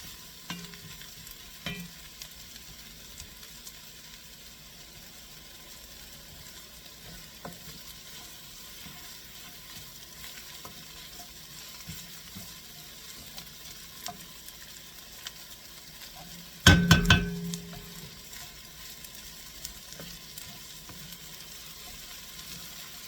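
Garlic goes into a pan and fries with a quiet, steady sizzle, with one brief louder clatter and burst partway through as it is added and stirred.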